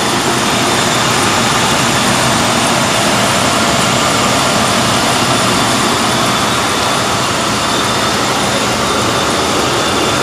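A cold 1995 Ford Crown Victoria engine idles with a constant, loud, dense rumble and hiss that holds steady without revving for the full ten seconds.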